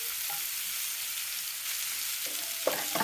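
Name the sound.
salted beef with green chilies being stir-fried in pan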